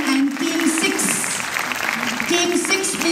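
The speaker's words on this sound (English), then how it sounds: "Please clap for them." Applause from an audience for children's teams at a prize giving, a steady patter of clapping throughout, with a voice speaking over it.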